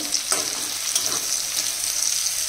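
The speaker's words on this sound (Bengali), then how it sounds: "তো এই ভাজা করছি" Food sizzles in a frying pan on a home stove, a steady close crackle with occasional stirring scrapes and clicks, no voices.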